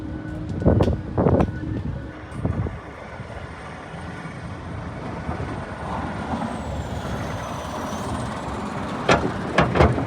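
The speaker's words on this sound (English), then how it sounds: "Quite windy still." Steady broadband wind rumble fills the whole stretch, with a few louder gusts or buffets near the start and end.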